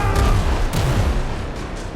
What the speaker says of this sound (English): We still have our 36 pounders to fire